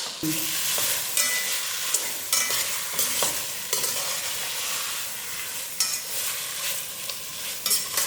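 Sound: shrimp sautéing with masala in a pan

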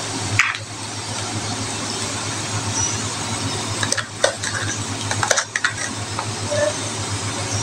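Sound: masala frying and being stirred in a pan

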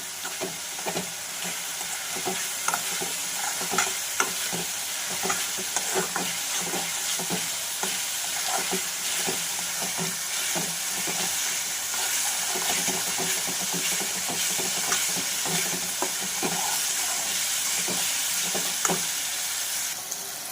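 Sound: food frying and being stirred in a pan

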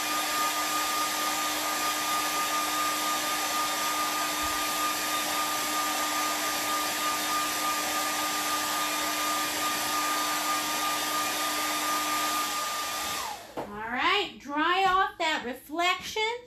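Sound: hair dryer drying wet paint

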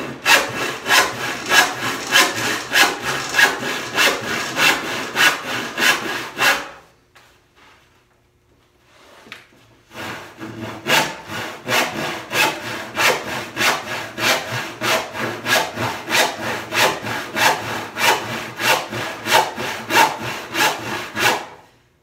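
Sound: hand saw cutting wood slab

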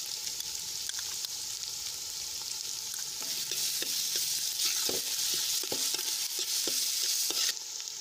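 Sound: onions sautéing in a pan on a wood stove

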